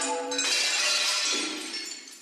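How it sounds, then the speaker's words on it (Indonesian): A glass-shattering alert tone from a stock-trading notification app plays as a sharp crash of breaking glass followed by tinkling shards that fade out over about two seconds. "Kaca pecah."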